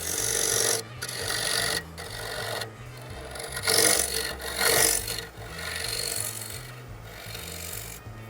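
A woodturning tool scrapes and rasps against a large spinning wooden bowl while cutting a tenon, in repeated gritty passes of a few seconds each, broken by short pauses, with a low machine hum underneath.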